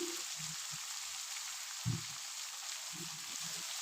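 Chopped onions fry in a pan for a Pangasius fish do pyaza, a steady soft sizzle running throughout while a spoon stirs them with a few low scraping knocks; quiet and close, no voices.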